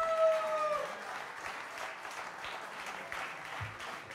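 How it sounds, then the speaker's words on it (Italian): At a live cover concert at BluesHouse Milano, the audience claps in a moderate, steady patter of applause, with a brief sustained tone fading out at the start. "Un applauso a voi."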